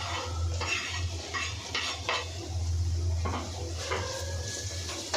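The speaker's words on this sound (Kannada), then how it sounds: "ಸೊ ಈರುಳ್ಳಿನ ಆ್ಯಡ್ ಮಾಡ್ಕೋಬೇಕು." Onion goes into hot tempering oil for chicken sambar, with a soft sizzle under clinking and scraping of a spoon against the pan, continuous and close, without talk.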